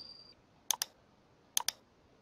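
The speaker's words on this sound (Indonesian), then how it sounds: "atau bisa dengan cara klik kanan, pilih copy, bisa juga pada keyboard, Ctrl C." Computer keyboard key presses for a Ctrl C copy shortcut, heard as two quick pairs of crisp, close clicks separated by a short pause over quiet room tone.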